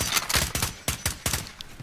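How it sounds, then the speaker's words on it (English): Rapid bursts of automatic gunfire from suppressing fire in the battle royale game Warzone, loud, sharp cracks repeating in uneven rhythm over under two seconds with no talk. "Putting suppressing fire down."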